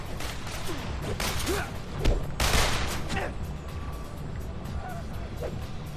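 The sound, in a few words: gunfire from cops in Spider-Man 3 video game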